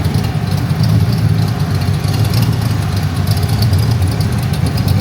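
A 1965 Shelby classic car with a freshly built engine of about 4,000 miles idles steadily, a loud, close, continuous low rumble with an even throb and no talking.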